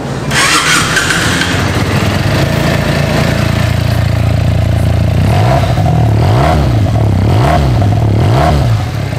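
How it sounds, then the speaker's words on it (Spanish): A Benelli 302S motorcycle engine cranks and catches, settles into a loud idle, then gets several sharp revs in quick succession, close up. "Casi se me olvida algo muy importante, el sonido de esta motocicleta."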